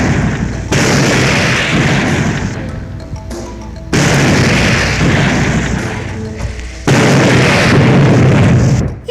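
Powerful film gunfire and booming blasts in three loud sustained bursts separated by short gaps, dense and close.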